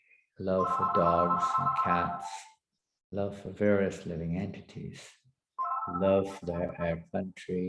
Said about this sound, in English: Excuse the phone ring